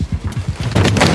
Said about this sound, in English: Gunshots rang out from inside